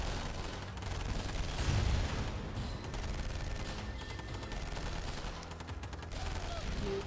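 Gunfire rattles through an attack on a base in Command & Conquer: Tiberium Dawn, with steady bursts of shots and small blasts crackling throughout amid the battle noise.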